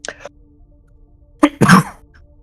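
A short burst followed by a louder, breathy sneeze, close and sharp, with quiet background between.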